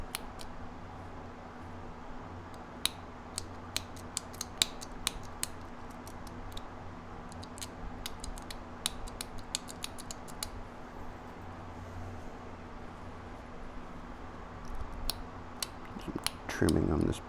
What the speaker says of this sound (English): Trimming on this profile just a smidge.